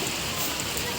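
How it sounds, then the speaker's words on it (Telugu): Light rain falls in a steady, soft hiss of fine patter, close by and even throughout, with no clear voices. "ఇది చిన్నగా వర్షం పడుతుందిగా"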